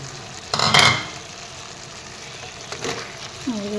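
Fiddlehead fern curry with meat is stirred in a frying pan, with a soft background sizzle and a couple of brief scraping stirs, close and without talk.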